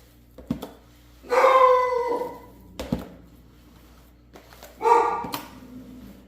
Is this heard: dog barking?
yes